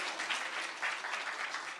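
Studio audience applauds a singer at a televised stage interview, a steady, dense patter of clapping that holds evenly throughout with no voices over it.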